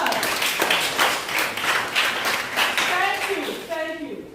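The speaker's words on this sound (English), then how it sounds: "A round of applause." Audience at a community symposium on drug abuse prevention applauding, a steady wash of claps that tapers off near the end as voices and a tonal sound come in.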